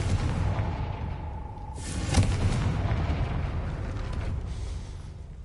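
In the Hogwarts Legacy video game, a Confringo blasting spell goes off as a single booming explosion with a sharp crack and a rumbling tail over a steady low game ambience.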